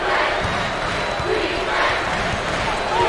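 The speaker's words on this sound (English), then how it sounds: "there's all kinds of people standing and cheering and going wacky." A large crowd roars and cheers continuously in the basketball video game NCAA 08 March Madness, a dense wash of excited voices with swells of louder shouting, broad and reverberant like an arena.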